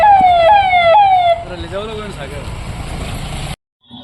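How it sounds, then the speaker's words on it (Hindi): Sirens wail from vehicles patrolling Sujangarh during a blackout mock drill, with three loud rising-and-falling sweeps repeating about every half second before fading into a weaker wavering tone and background noise, ending abruptly. "आप देख सकते हैं जहाँ पे सायरन बजती हुई गाड़ियां घूम रही थी इस शहर में"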